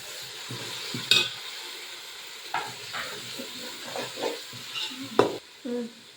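Shallots, ginger, garlic and green chillies sizzle softly in hot oil while being stirred, with scattered scraping clinks and a couple of sharper hisses over a quiet, continuous fry.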